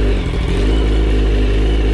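Kawasaki ZX-10R sport motorcycle from 2004, freshly reassembled with new forks, its engine running loud and close with a dense, rough rumble that swells slightly as it revs, with no talk.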